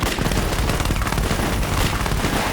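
A loud, dense volley of gunfire from several guns in an audio drama fires rapidly at close range for a few seconds, with no talk over it.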